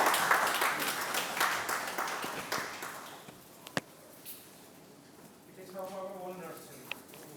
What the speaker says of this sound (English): Can we have a huge round of applause, please?